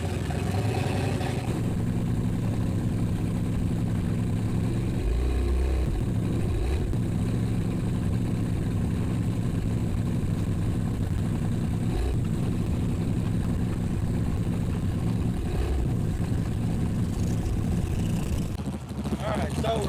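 A Dodge truck with a turbocharged 4.8L LS engine cruising along at a steady drone, loud and continuous, with a low rumbling engine tone throughout.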